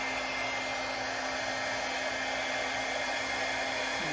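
A hair dryer blows steadily and loudly at close range, pushing acrylic paint across a canvas in an acrylic pour blow-out, a continuous even whoosh with a faint motor hum and no speech.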